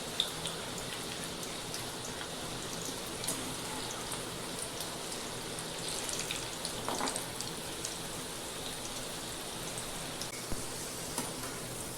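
Bitter gourd slices crisping in a little oil over a medium gas flame, giving a steady, dense sizzle and crackle that holds evenly throughout with no talk.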